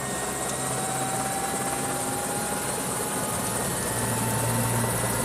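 A helicopter's rotor runs as a loud, constant, broadband whooshing drone with a steady engine hum beneath it, unbroken for the whole stretch.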